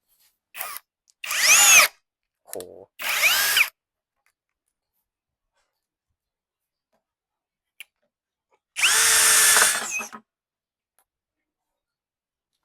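A MASARU cordless drill-driver whirs in several short bursts, rising and falling in pitch, separated by silence, with a brief exclamation between runs.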